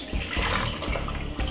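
Roughly half a glass of water is poured into a blender for a Jamaican diet juice drink, giving a short, close, splashing gush with no talk over it.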